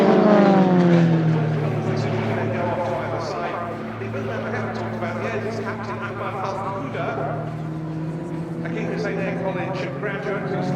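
Extra 330LX aerobatic propeller planes buzz through a display manoeuvre at an air show, a loud, steady engine drone that shifts in pitch as they pass, with a commentator talking over it throughout.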